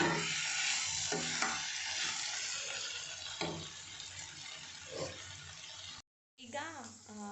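A spoon stirring capsicum masala fry with salt in a sizzling pan, giving a steady close frying hiss with scraping stirs, followed by a short pause and then a voice talking.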